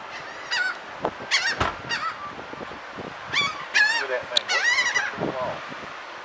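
Seabirds at a beach honk and call in repeated bursts, several overlapping loud squawks close by against light background noise.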